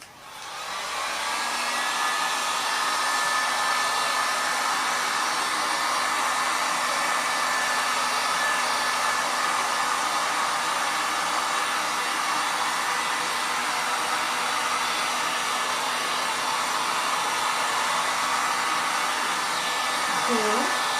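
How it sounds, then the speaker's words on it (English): A heat gun blows steadily across an acrylic paint pour made with Liquitex Pouring Medium on an oval canvas, a loud, continuous airy roar that holds for about twenty seconds without a break. "I think I'm just gonna get my heat gun first, see what happens."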